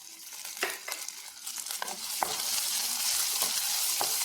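Green chillies go into a hot pan with small onions and start frying. Scattered crackles and pops come first, then a sizzle that grows louder and steadier.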